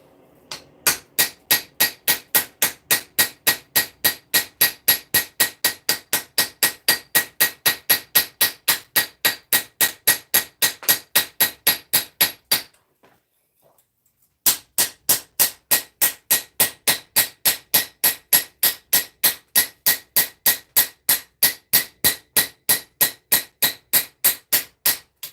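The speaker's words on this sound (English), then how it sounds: "gonna do a little bit more hammering now" Steady, rapid hammer blows on a Japanese santoku kitchen knife blade, ringing metallic strikes at an even clip of several per second, close and loud, with one brief pause midway before the hammering resumes.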